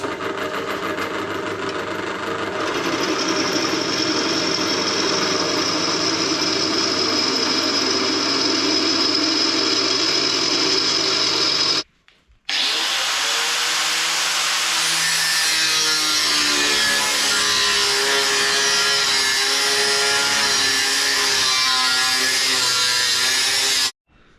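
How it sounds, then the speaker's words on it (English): A power drill whines continuously while boring 3/8-inch holes in metal on a BSA Bantam racer, a sustained grinding tone with a brief pause midway before drilling resumes, loud and close. "So time to start drilling some 3/8 holes."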